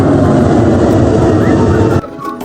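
Airplane passing near the airport, a loud steady engine roar that holds and then drops away suddenly, leaving quieter background sound.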